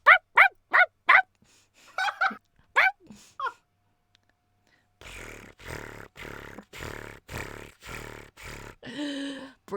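A person imitates a dog barking in a string of short voiced yips and barks, followed by a quiet pause and then a run of rhythmic breathy huffs.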